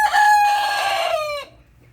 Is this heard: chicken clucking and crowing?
yes